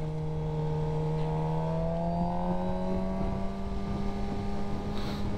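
A sport motorcycle engine running steadily while the rider warms the tire, a sustained tonal engine drone whose pitch slowly shifts under light wind noise, with no talking.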